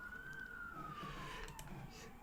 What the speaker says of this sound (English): the police sirens in the background work well with this